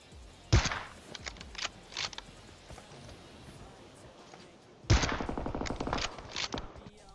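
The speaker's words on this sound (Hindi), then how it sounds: "गोली चला रहा हूं और बहुत कम बर्बाद हो रही है गोली" PUBG Mobile gunfire comes in two sharp bursts of rapid automatic shots, each opening with a loud crack and a string of quick reports, separated by a quieter stretch with scattered single shots.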